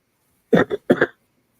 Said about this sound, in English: I didn't mean to cough in y'all's ear.